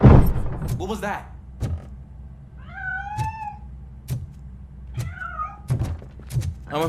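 A cat in the video game RoboCop Rogue City meows several times, with short, rising cries spaced a second or two apart, mixed with dull thumps over a quiet hum.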